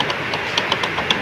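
A motorcycle engine idles with a rapid, rhythmic ticking clatter from a magneto whose welded cam rivets have broken, close and steady with no talk.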